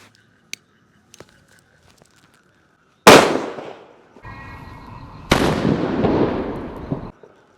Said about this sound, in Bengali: তো গাইস এটা ছিল ছোট বম